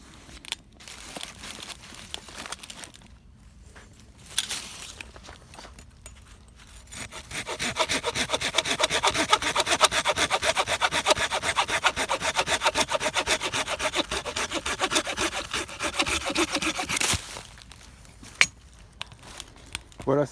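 A Stihl hand saw cuts through wood in a steady run of close, loud rasping strokes lasting about ten seconds, preceded and followed by quieter handling noises.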